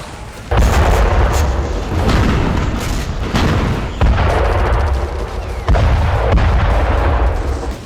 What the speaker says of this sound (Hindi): इस दौरान कई धमाके और गोलीबारी की आवाज सुनाई देती है।